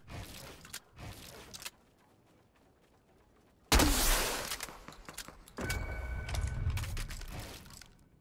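Gunfire from a weapon in Fortnite comes in a few sharp, loud blasts and short bursts, with quieter thuds and mechanical game sounds in between.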